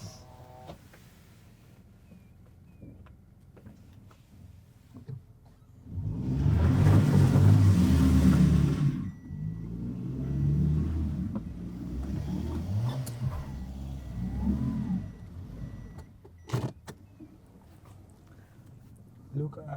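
A car engine revving hard in reverse with a back wheel stuck, a loud rumbling surge for a few seconds, easing then rising again, with people talking over and between the revs.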